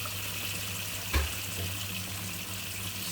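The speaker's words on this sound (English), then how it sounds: "Let's get the tap running." Water runs steadily from a tap in a workshop while a Hoover Junior Dirtsearcher vacuum cleaner is being refurbished, a continuous close hiss with a brief knock near the start.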